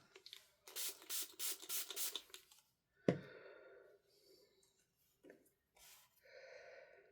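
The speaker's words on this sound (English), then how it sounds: "I'm going to spray this 5 times with my water" Five quick bursts of a water spray bottle misting a stencil in a steady rhythm, close and crisp, followed by soft breathing and faint handling noises.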